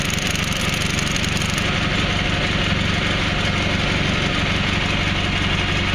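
A John Deere 317 lawn tractor engine idles loudly and steadily up close, with a continuous fast rattling knock from a loose oil fill cap throughout.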